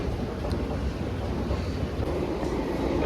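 A Delhi Metro train bound for Dwarka rumbles into the platform with a steady, loud roar and a whoosh of air, with no voices.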